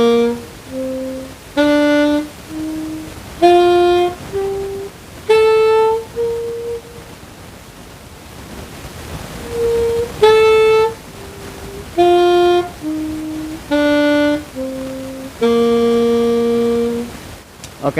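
A saxophone plays a slow run of sustained single notes, loud and soft by turns, each tone clear and close, then pauses before a second run that ends on a long held note.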